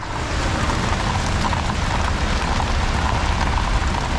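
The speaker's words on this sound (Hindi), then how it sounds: "बारिश हो रही है अभी बाहर," Heavy rain pours steadily outside in Kazakhstan, a dense constant hiss of drops with no voices.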